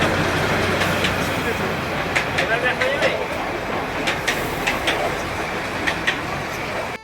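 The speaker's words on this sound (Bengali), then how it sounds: "দার্জিলিংয়ে ঢোকার সময়ই আমরা দেখতে পেলাম টয় ট্রেন।" The Darjeeling toy train runs nearby with a continuous, loud rumble, overlaid with irregular metallic clicks and clacks from the wheels and cars.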